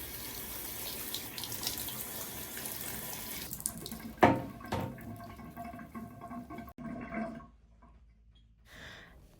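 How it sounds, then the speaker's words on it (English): Water rushes from a handheld shower head in a steady close spray, then splashes and cuts off in bursts, falling to near quiet with a few last trickles toward the end. "Now I utilize the handheld piece, which has a much more calming spray"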